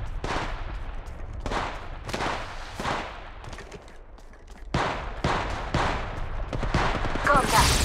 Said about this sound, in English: Contact. I'm getting shot at.